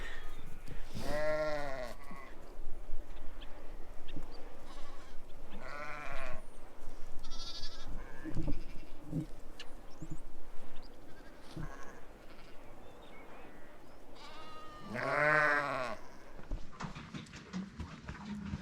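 Lambs and sheep bleat repeatedly on a farm during lambing season, several close, wavering calls spread across the stretch with quieter bleats, shuffling and rustling in between.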